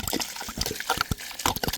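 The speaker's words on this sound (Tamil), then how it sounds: "இப்போ நல்லா தண்ணி ஊற்றி அலசி கழுவி எடுத்துக்கிறோங்க" Cut snake gourd pieces being rinsed and swished in water in a kitchen, a busy run of splashing, sloshing and dripping sounds close by, no talk.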